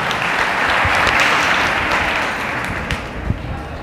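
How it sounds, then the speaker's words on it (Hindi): An audience at an Independence Day event in Bulandshahr breaks into dense, loud applause for a guest. The clapping swells quickly, then eases off over a few seconds. "एक बार उनके लिए जोरदार तालियां"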